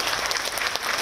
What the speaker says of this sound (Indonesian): tepuk tangan buat Pak Agung Laksono.